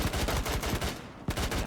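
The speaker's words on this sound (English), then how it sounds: "Now that's some damn gunfire." Rapid gunfire from Rainbow Six Siege plays as loud, dense bursts of repeated shots, nearly continuous across the moment with a brief lull before another sharp volley.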